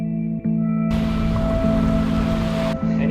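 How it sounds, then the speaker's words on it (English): Rain comes down at Mission Beach in Queensland, Australia, a loud steady hiss that starts suddenly and runs for about two seconds before cutting off, over a constant low hum. "This is Mission Beach and the rain has come."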